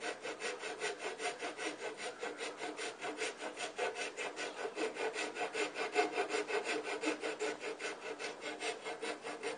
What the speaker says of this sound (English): we got it down to a point where we can rasp it down